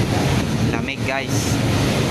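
Strong seaside wind buffets the microphone on a coastal walk, a loud continuous rumble with surf in the background, briefly interrupted by a short voice in the middle.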